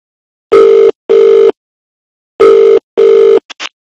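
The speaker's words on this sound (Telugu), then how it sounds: "లెట్స్ కాల్ 30 ఇయర్స్ పృథ్వీ గారు" A phone dials out with four long, loud tone bursts in two pairs, then two short beeps at the end, each ringing clear against silence.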